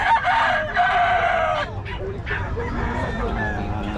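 A rooster crows loudly nearby, followed by a mix of clucking chickens and other fowl with faint Filipino talk underneath.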